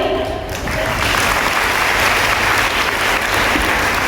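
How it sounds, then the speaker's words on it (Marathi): An audience in a school hall applauding, a dense, loud wash of many hands clapping that swells after the first half-second and holds steady to the end. "टाळ्यांचा आवाज हा लयबद्ध पाहिजे"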